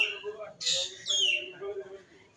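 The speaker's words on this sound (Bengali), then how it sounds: "রাতের একটা পাখির কিচিরমিচির শব্দ" A bird calls at night from near a balcony a few times with short, bright chirps and a sliding whistle, heard quietly against a faint background.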